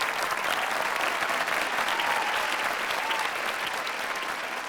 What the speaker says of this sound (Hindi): तालियां बजाकर इस्तकबाल करें।